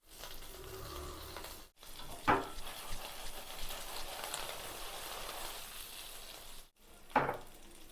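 Eggplant pieces fry in hot oil in a kadai with a steady, close hiss and soft crackle. Two brief cuts break the sound, and a sharper sizzle flares after each one.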